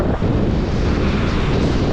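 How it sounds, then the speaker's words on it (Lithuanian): Steady roar of Baltic Sea waves on the coast of Hiiumaa island, Estonia, mixed with gusty wind buffeting the microphone, loud and continuous with no voices. "Bangos tai labai gražios."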